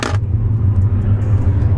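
A high-mileage Tesla electric car accelerating, heard as a steady low rumble and road hum from inside the cabin, loud and continuous after a brief click at the start, with no talking.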